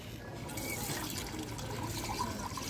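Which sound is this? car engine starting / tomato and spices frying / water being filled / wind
water being filled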